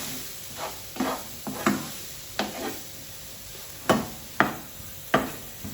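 A spiced potato mixture with chili powder, turmeric and crushed red pepper is stirred in a hot pan. Spoon scrapes and soft sizzling bursts come in an irregular rhythm, with about eight distinct strokes and quiet gaps between them.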